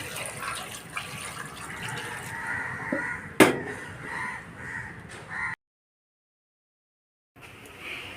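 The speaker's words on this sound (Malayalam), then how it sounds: "ഇനി നമുക്ക് ഇതിലേക്ക് വെള്ളം ഒഴിച്ചു കൊടുക്കാം" Water is poured into a cooking pot of tapioca, a steady close splashing gush that runs for several seconds with a sharp clink partway through, then cuts to silence before a faint resumption.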